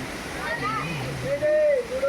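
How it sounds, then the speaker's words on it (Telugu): A waterfall streams down over the goddess idol at a temple, its steady splashing hiss running beneath a person talking nearby. "పైనుంచి అమ్మవారి మీద నుంచి మనకి జలపాతం జాలువారుతూ ఉంది"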